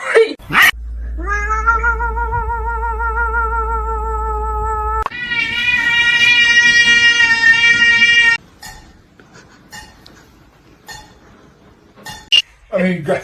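Domestic cats meow in long, drawn-out yowls, one sustained cry followed by a higher, louder one, with clinks and short noises between them.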